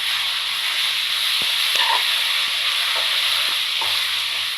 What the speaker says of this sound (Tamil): இஞ்சி பூண்டு பேஸ்ட்டு நல்லா பச்சை வாடை போகிற வரைக்கும் மிக்ஸ் பண்ணி விட்டுக்குங்க.